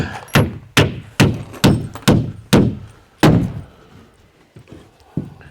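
Nails driven by hand with a hammer into a wooden off-grid cabin wall in cold, snowy weather: seven sharp, evenly spaced strikes, then a pause and a few lighter taps, close and loud.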